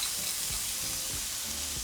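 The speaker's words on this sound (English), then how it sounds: "Now just saute it for a couple minutes." Roma tomato, jalapeno and half an onion sauteing in hot oil in a pan give a steady close sizzle, with a few soft stirring scrapes at regular intervals and no talking.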